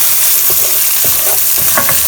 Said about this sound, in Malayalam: ജസ്റ്റ് ഒന്ന് മിക്സ് ചെയ്യുക.